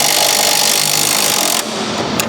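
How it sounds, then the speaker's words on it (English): A loud power tool runs continuously, driving bolts that mount a Ford Bronco body onto its chassis, then cuts off abruptly, leaving a quieter shop background with a couple of small clicks. "Let's get the rest of the bolts in."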